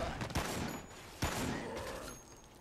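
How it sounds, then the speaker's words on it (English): Two sharp gunshots about a second apart from a firearm in Dead Rising, fired at zombies, each snapping out over a busy game background and followed by a short decay. "I'm actually gonna use a gun here"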